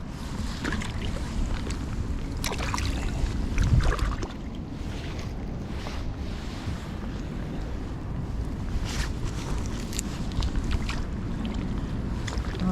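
A fishing boat on open water off the coast, heard as a steady low rumble of hull and water mixed with gusty wind buffeting the microphone, no voices.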